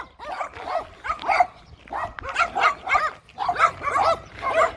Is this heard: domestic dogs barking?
yes